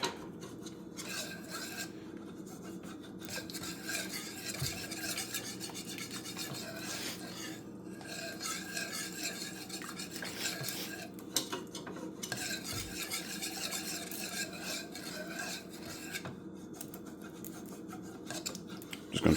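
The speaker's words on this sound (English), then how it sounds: "Keep mixing until it's smooth and there's no lumps." A utensil stirs rice noodle batter in a pan over medium heat with continuous, soft scraping and rubbing, fairly quiet and steady throughout, with no voices.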